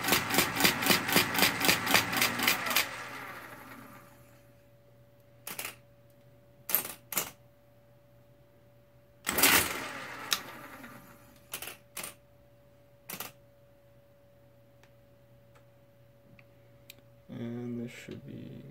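A mechanical calculator with gears set up for division produces a rapid run of rhythmic clicking strikes, then falls to sporadic, isolated mechanical clunks separated by quiet gaps.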